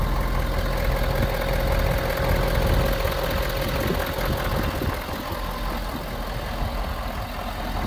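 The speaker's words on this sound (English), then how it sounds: "listen to the engine." A Ford F250 Lariat 4x4 pickup engine idles steadily with an even, low rumble and a faint tonal hum, fairly close and with no talking.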